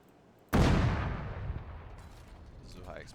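A tank in Arma 3 fires a high explosive shell: one sudden, loud boom that trails off into a long, fading rumble over a few seconds.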